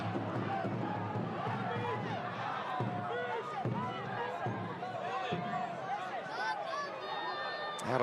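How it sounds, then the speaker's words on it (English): Stadium crowd at a pro soccer match roaring and buzzing steadily after a long-range strike, loud dense cheering filling the whole stretch with scattered shouts. "Got the crowd amped."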